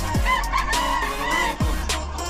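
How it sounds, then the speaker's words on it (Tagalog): Several chickens cluck and a rooster crows amid farmyard noise, with overlapping bird calls close by and a low rumble underneath. "Ang daming manok dito ngayon, no?"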